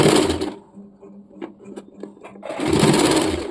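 A sewing machine runs in two loud, steady bursts of stitching on cotton nightie fabric, with a quieter gap of small clicks and handling between them.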